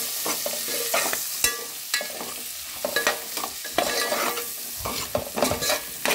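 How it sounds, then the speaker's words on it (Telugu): Sliced onion and green chillies frying in ghee in a pan while being stirred, giving a steady bright sizzle broken by frequent scraping and clinking of the spoon, close and fairly loud with no talking. "ఇదంతా పచ్చి వాసన పోయే వరకు దీన్ని ఫ్రై చేసుకోవాలి."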